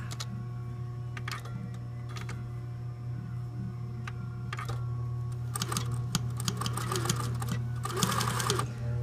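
A sewing machine stitches a corner overlap on a costume, its motor humming steadily under rapid mechanical clatter that comes in short bursts, then runs longer and busier toward the end.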